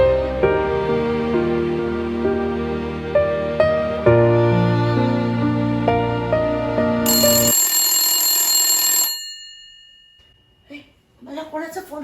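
A telephone rings indoors in a home scene, a melodic ringtone of stepped notes repeating loudly for several seconds, then a brighter chiming phrase before it stops and faint rustling follows.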